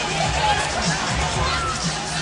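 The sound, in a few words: arena crowd celebrating after NBA Finals game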